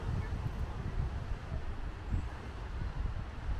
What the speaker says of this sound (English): be a bit windy here at the moment